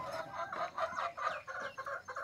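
Hens and chickens on a farm, clucking in quick repeated bursts, fairly close and faint, with no talking over them.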